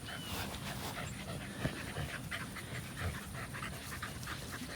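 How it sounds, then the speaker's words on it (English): Border collies pant rapidly and steadily after a run between rain showers, the breathing close and fairly quiet, with a faint whimper and outdoor noise around it. "Got the dogs out for a little run between rain showers."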